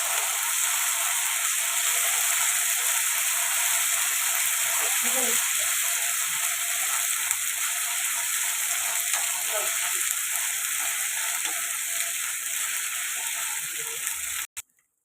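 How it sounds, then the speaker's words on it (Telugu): Ginger garlic paste fries with onions in a pan, giving a steady, close sizzle that runs almost without pause before cutting off abruptly at the end. "ఇలా ఫ్రై అవుతున్నాయి కదండి"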